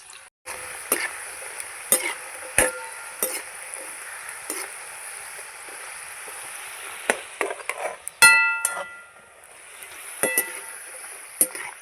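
Nimki fry in hot oil with a steady, light sizzle, broken by sharp clinks and scrapes of a utensil against the pan, close and fairly quiet, with no speech.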